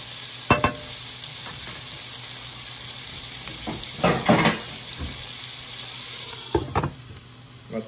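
Orange beef sauce simmers in a pan with a steady, close sizzle and bubbling, broken by a few louder stirring scrapes and clatters.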